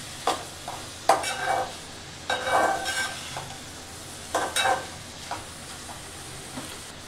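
Ivy gourd pieces and onions stirred in a frying pan, a spatula scraping in several distinct bursts over a low sizzle, close and fairly loud with short pauses between strokes.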